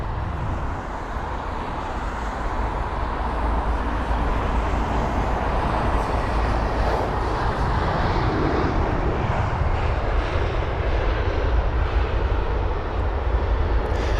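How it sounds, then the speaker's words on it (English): A British Airways Airbus A321neo at London Heathrow produces a loud, continuous jet roar that fills the whole stretch with a broad, steady rumble. "That's the Airbus A321neo, the extended version of the A320."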